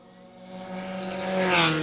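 A race car engine during a Formula First 2 litre one-hour race, a steady tonal drone rising in pitch as it accelerates and grows louder, heard alone without talk.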